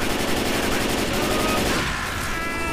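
Rapid automatic gunfire in the Left 4 Dead 2 zombie shooter during a Tank attack on a barn roof, loud and continuous bursts filling the whole moment with no talking.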